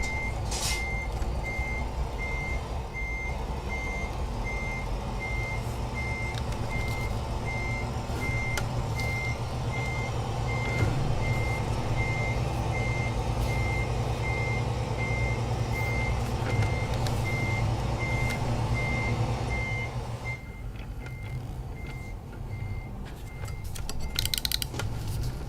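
A truck's reversing alarm in Euro Truck Simulator 2 with the ProMods map mod beeps in a steady, regular rhythm over a constant diesel engine rumble for about twenty seconds, then stops while the engine idles on.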